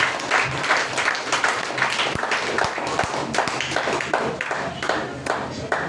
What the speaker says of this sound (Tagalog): Lahat ng wala ng galit pumalakpak sa Panginoon